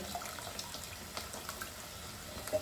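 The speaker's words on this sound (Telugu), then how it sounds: "మనకి ఎంత వాటర్ కావాలో అంత వాటర్ వేసుకుంటే సరిపోతుందండి" Water pours into a pot of cooked dal in a soft, continuous stream with small splashes, fairly faint and with no talking.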